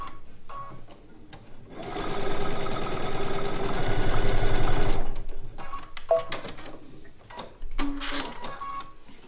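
Strips of a blue and white quilt top run through a sewing machine in one sustained, close whirring burst of about three seconds, framed by quieter handling clicks and rustles before and after.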